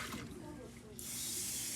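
Dirty water from a wash basin splashes and gushes into a sink with a bright hissing rush that swells partway through and keeps pouring.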